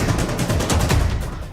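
Rapid crackling bursts of exploding firecrackers and gunpowder at a firecracker factory in Chapra, a dense, loud barrage of overlapping pops that continues without pause.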